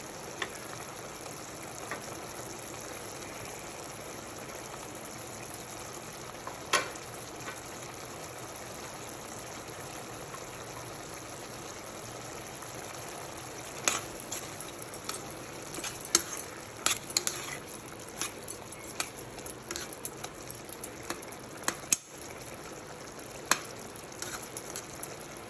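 Chopped tomatoes cook in a pan of mutton curry, a steady low sizzle and bubbling simmer with occasional clinks and scrapes of stirring, fairly quiet and without talk.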